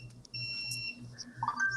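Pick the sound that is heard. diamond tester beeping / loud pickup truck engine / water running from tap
diamond tester beeping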